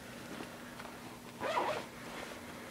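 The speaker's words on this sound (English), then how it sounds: "It just zips shut." A zipper pulled shut on the inside pocket of a diaper bag, a short rasping zip near the middle over a quiet indoor background.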